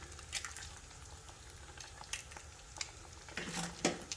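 Eggs being stirred into halwa in a cooking pan, with soft frying sizzle and scraping stir strokes that grow louder near the end; no talking.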